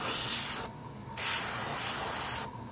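An air gun sprays undiluted blue paint in two long, steady hissing bursts with a short pause between them, loud and close with no talking.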